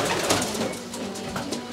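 Racing pigeons coo in a loft, a steady murmuring coo running through the whole stretch at close range with no talk.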